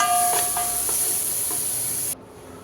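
Onions sizzle in hot oil in a pan after fried pointed gourd and potato are lifted out, ahead of a hilsa fish curry. A steady bright hiss with a few faint clinks runs for about two seconds, then cuts off abruptly.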